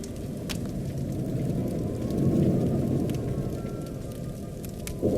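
Steady heavy rain pours with a low rumble of thunder swelling in the middle, constant and fairly close, with no voices.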